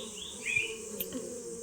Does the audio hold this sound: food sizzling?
no